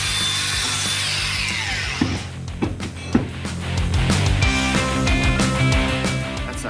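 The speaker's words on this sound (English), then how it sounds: "the orbital sander onto it and sand it in that direction" Orbital sander running against a 1977 Kawasaki Z650 part with a continuous gritty buzz and rubbing hum, broken by a few clicks and knocks of handling partway through.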